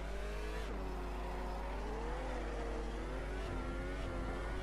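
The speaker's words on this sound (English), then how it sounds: "Let's see a couple of starts in this mode." A Ferrari SF-15T hybrid Formula 1 car at a race start, its high engine whine droning loud and continuous while the pitch dips and climbs as the revs change.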